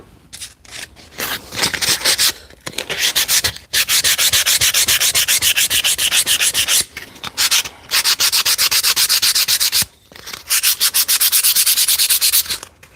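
Small wood pieces being hand-sanded with 150 grit sandpaper in a shop, loud close bursts of rapid back-and-forth rasping separated by short pauses.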